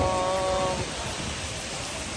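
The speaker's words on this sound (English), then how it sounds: "Day 4, rain decided to fall." Rain falls on a day in Benidorm as a steady, broadband wash of drops, fairly faint and continuous throughout, with a brief tonal sound in the first second.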